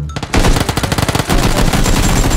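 Rapid automatic gunfire from the battle royale game PUBG, a loud, dense string of close shots rattling in quick bursts for the whole stretch with no talk over it.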